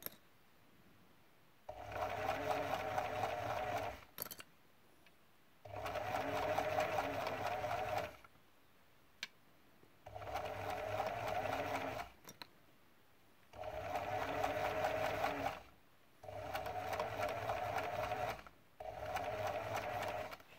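A domestic sewing machine stitches fabric in six steady bursts of several seconds each, separated by short pauses. It runs close and fairly loud with a constant whirring hum, and no voices are heard.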